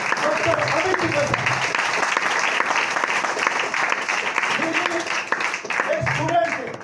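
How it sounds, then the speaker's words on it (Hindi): An audience claps loudly and steadily through the whole stretch, a dense, sustained wash of applause welcoming Dr. Amit Tiwari at an AWPL gathering, with brief voices rising over it now and then. "आपको एक जोरदार तालियां चाहूंगा, एक बार जोरदार तालियों के साथ नाम लिया जाए डॉक्टर अमित तिवारी"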